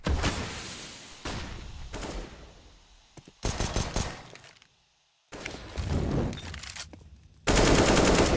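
Bursts of pistol fire ring out during a Counter-Strike match on the Cache map, dense rapid cracks in loud clusters separated by short pauses, with a thick wash of game noise.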